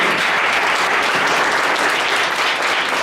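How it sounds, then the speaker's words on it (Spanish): A church congregation applauding during a Spanish-language healing prayer service, loud, dense and sustained clapping that fills the space without pause. "Denle un aplauso a su..."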